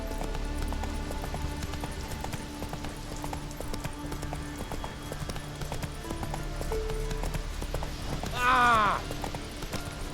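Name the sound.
horse galloping in video game The Witcher 3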